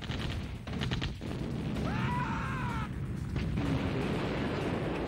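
In the Command & Conquer video game, cannon fire booms and thuds amid continuous battle noise, with a whistling, warbling effect in the middle and steady rumbling throughout.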